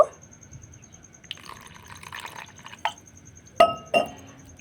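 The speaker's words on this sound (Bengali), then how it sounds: "আর সামান্য একটু জল দিয়ে দেব" A small splash of water goes into a Bengali steamed eggplant mixture: quiet trickling and a few sharp glassy clinks, with louder splashes near the end, close by and with no talking.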